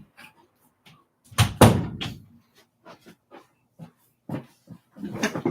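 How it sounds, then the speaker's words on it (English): A door is shut in a home with a firm thud partway through, surrounded by soft rustling and brief quiet voices nearby. "And I'm going to shut my door because my hubby's in there."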